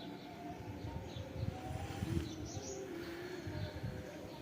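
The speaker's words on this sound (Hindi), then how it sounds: "परिंदों की आवाज़ सुने, कितनी प्यारी है।" Birds chirp and pigeons or doves coo outdoors on a quiet early-morning rooftop, soft and somewhat distant over low background rumble.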